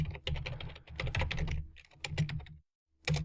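Rapid clattering keystrokes on a computer keyboard, typed in close, uneven bursts with brief pauses and one short silence before a final flurry of keys.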